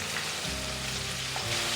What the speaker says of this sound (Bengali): হয়ে গেছে চিংড়ি মাছটা ভাজা